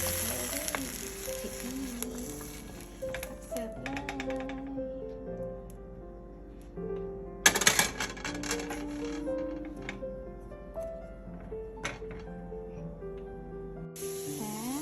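Vegetables stir-fry with soy sauce while being stirred, a hissing sizzle with clattering spatula scrapes and a loud burst of sizzle midway, heard alongside tonal background music.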